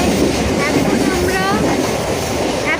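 A train runs on rails with a loud, steady rumble and faint squealing tones from wheels, heard from on board.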